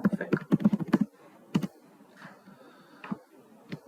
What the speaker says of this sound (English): So what I will do, I will type this traceroute